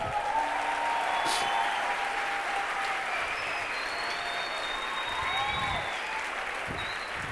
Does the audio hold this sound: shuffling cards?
no